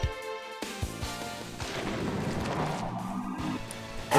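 Bomb attacks going off in the video game Grandia 2, heard as a run of booming, crashing explosion blasts layered with game music, loud throughout and bursting again at the very end.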